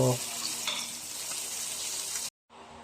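Steady, loud sizzling of shrimp frying in a hot pan, continuous and close, cutting off briefly near the end.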